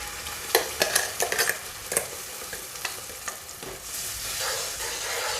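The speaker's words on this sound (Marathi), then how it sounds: "आता मी ह्यामध्ये वाटण घालून घेते हे बघा ह्यामध्ये हे मी वाटण घालून घेते" Ground masala paste is stirred in a hot pan for a Malvani karli fish curry: a faint sizzle lies under sharp scraping stirs in quick clusters, then frying continues steadily with fewer strokes.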